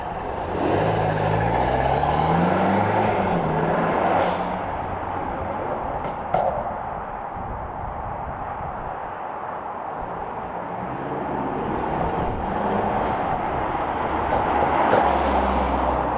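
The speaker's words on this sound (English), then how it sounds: "So I'm going to close the valves right now and let's see what it sounds like." A Mercedes C300 with a pops-and-crackles tune runs with its exhaust valves closed: a subdued, low engine drone at steady loudness, with a few faint ticks and a brief light pop, and no speech.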